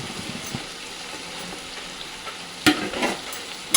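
Fried rice is stirred and tossed in a wok, a constant close sizzle with scraping spatula strokes and a few sharp clattering knocks toward the end.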